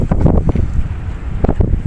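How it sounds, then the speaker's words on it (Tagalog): Gusty wind on the Corniche seafront in Abu Dhabi roars against the microphone in heavy low rumbling bursts, easing briefly in the middle before buffeting again. "Mahangin guys."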